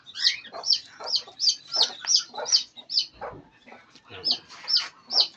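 Chickens cluck in a quick series of about a dozen sharp, rhythmic calls with a rooster among them, close and clear against a quiet farmyard background.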